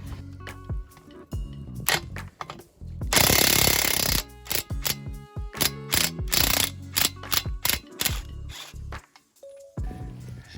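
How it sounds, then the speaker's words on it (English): Impact wrench working a rusted bolt loose under a Honda Civic Type R EP3, a series of loud hammering rattles in short bursts, one long burst followed by repeated stop-start hits. "So we got the trusty impact out."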